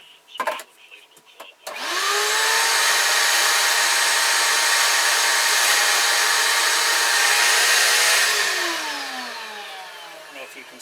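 Power tool gouging out the inside of a carved wooden ventriloquist dummy figure: a loud, steady high-pitched whine holds for about six seconds, then winds down, with a few brief knocks just before it starts.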